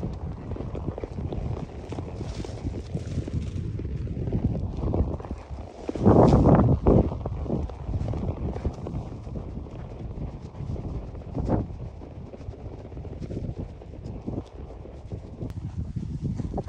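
Hooves of a horse led on foot make a steady, moderately loud clip-clop outdoors, with buffeting wind across the microphone and no talking.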